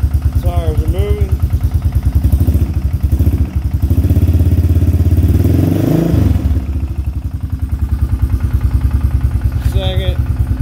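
A Honda Foreman 500 ATV engine runs steadily close by, its loud drone rising in pitch and falling back as it is shifted up through the gears, with a voice talking over it.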